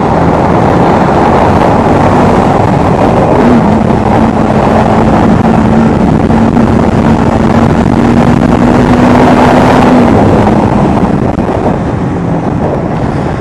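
A Honda CBR300R motorcycle rides through a tunnel. The engine drones loud and steady under heavy wind rush, with a rising engine tone held through the middle of the ride.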